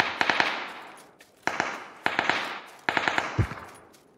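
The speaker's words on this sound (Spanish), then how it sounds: "Disparan de arriba, ¿eh?" PUBG gunfire sounds in bursts of rapid automatic shots, four separate volleys with short gaps between them and one dull low thump near the end. The shots are fairly distant and loud, with no talk.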